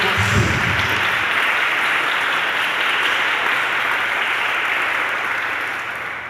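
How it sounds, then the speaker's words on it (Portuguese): Loud, sustained congregation applause during a church sermon, a dense wash of many hands clapping evenly for several seconds before easing slightly at the end, with no talk over it. "Aplauda o amor de Deus por você."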